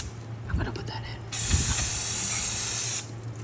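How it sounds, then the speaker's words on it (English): CRC brake cleaner sprays from an aerosol can in a garage, a steady loud hiss lasting under two seconds, with brief talk and a low mechanical hum before it. "so we got CRC brake cleaner"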